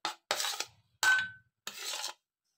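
Powder is scooped into a clean bowl with faint, dry scraping and rasping strokes, four short bursts with quiet gaps between them. No one talks over it.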